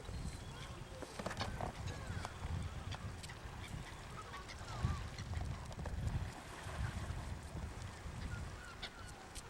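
Geese honk in a busy outdoor scene in Ireland, scattered honks and calls mixed into steady low background noise, with voices talking throughout.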